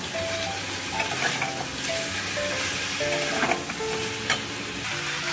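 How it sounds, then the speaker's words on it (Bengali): Ginger-garlic paste frying with potatoes and meat in a pan, a steady close sizzle running throughout with occasional scraping stirs and no talk. "একেবারে আলু আর মাংসের সাথে আদা রসুন বাটাটা ভেজে নিচ্ছি।"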